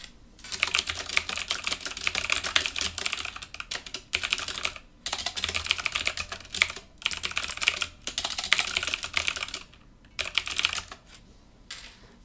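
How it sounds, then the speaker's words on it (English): Steady typing on a computer keyboard, with rapid clattering keystrokes in bursts separated by short pauses, close and fairly loud with no talk over it. "are you just typing it so he knows what it is?"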